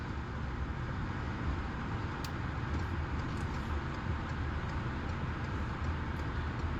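A car drives along roads in Virginia, USA, heard as a steady, even rumble of tyre and road noise from inside the vehicle, unbroken and with no talking.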